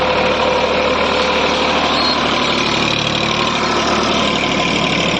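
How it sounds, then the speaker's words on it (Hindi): A Massey Ferguson 245 DI tractor roars continuously while ploughing a farm field, its diesel engine loud, close and steady throughout with no speech. "ट्रैक्टर देखो कितना गजब होकर चल रहा।"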